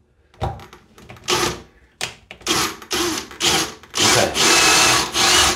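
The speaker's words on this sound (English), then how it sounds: "So now I'll drill the next one." A drill with a spade bit grinds through tile in repeated loud bursts, with short pauses between runs that grow longer and steadier toward the end.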